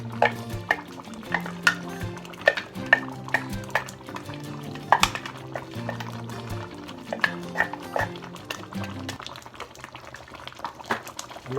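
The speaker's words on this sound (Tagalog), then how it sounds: "Haluin po ng maigi." A spoon stirs duck caldereta in a metal pot, scraping and clinking repeatedly against the sides over a steady low simmering bubble, up close with no voices.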